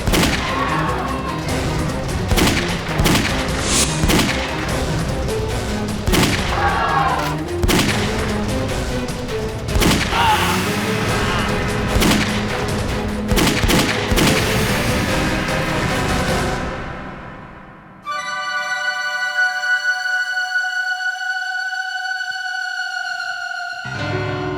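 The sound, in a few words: gunshots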